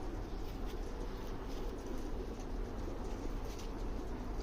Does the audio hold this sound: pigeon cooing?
yes